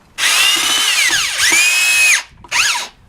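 A power drill drives screws into wood end grain while building a concrete casting mold, two long whining runs that sag in pitch as each screw seats, then a short final burst, loud and close with no talk.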